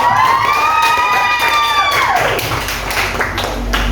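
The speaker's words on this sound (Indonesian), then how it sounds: "Kalau senang tepuk tangan untuk kita semua dulu." Schoolchildren in a classroom clapping their hands together, a dense, continuous burst of applause with a sung or shouted voice tone running over the first half, loud and close.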